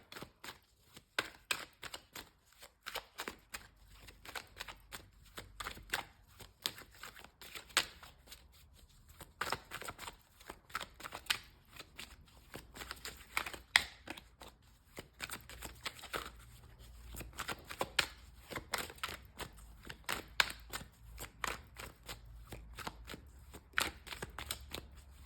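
Tarot cards shuffled by hand in a rapid, continuous riffling patter, close and fairly quiet, with steady bursts of crisp card flicks throughout and no talking.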